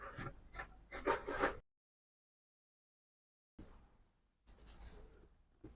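Fabric being cut for a cowl garment, with scratchy scissor or blade strokes in short bursts, a silent gap, then more rasping cuts, close and fairly quiet.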